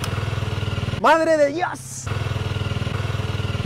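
A brand-new Honda CRF 300L 2023 motorcycle idling with a close, steady, throbbing engine pulse. A man's excited exclamation briefly cuts in before the engine note returns.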